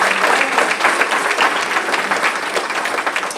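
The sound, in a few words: applause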